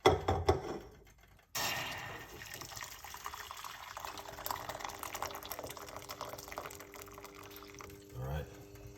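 Hot water poured for a lemon ginger apple drink, a steady liquid stream after a brief pause, close and moderately loud, with a person talking at points.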